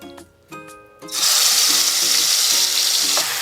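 Raw chicken drops into hot onion-fried oil in a pressure cooker, a few clinks of the pieces going in before a loud, sudden burst of sizzling that keeps on steadily up close.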